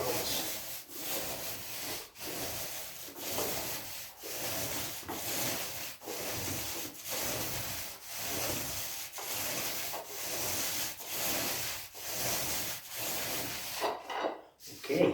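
A paint roller loaded with Zinsser 123 primer rolls up and down an interior wall in steady, evenly spaced strokes, a close, sticky rasping swish repeating about every second and a half.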